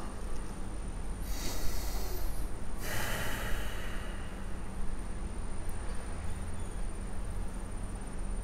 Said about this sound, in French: Vous pouvez prendre une grande respiration comme moi.